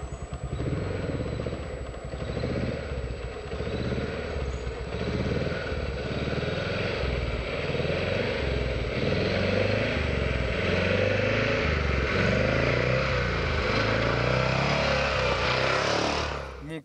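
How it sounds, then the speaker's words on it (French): A motorcycle engine rises again after easing off while riding a wheelie, a steady close mechanical drone with small throttle swells and clatter, continuous and loud with no talk over it. "La moto redescend un peu plus loin, je raccélère un petit peu."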